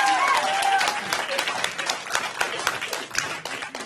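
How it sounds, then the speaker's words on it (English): An audience at an improv class show breaks into applause, a dense burst of clapping close by that starts strong and slowly thins out, with a few voices mixed in. "let's give a round of applause"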